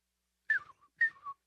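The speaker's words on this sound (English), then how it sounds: "There's a bird whistle." A bird whistle blown in two short warbling bursts, each a bright chirping trill that slides down and trails off, close and clear against silence.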